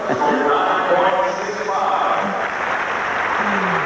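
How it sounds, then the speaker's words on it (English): A crowd applauding a men's gymnastics apparatus performance at the 1989 U.S. Olympic Festival, steady clapping in a large arena with a commentator talking over it. "the crowd applauding the performance a moment ago of Tom Schlesinger"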